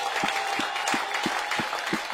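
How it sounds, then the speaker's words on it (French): A church congregation applauds and acclaims during a French-language sermon, with rhythmic clapping at an even beat over a continuous, fairly faint crowd wash. "Donnez encore une acclamation au Seigneur."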